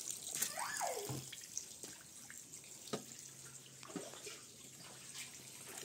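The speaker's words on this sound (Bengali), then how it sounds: "দেখেন পানি আসতেছে।" Water trickling and splashing from a well on a hilltop, a faint, irregular flow with small drips and bursts, heard up close in a quiet setting.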